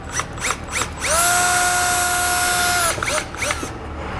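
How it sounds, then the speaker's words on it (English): A small power drill whines steadily for about two seconds drilling out plastic rivets on a 2015 Jeep, framed by short bursts and clicks of the tool starting and stopping. "we just want to drill out the center. So we'll take a small drill bit"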